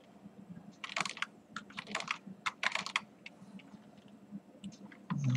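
Keys clatter on a computer keyboard in quick, irregular bursts of close clicks, with short pauses between runs as test cases are typed.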